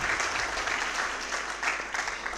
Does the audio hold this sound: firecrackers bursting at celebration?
no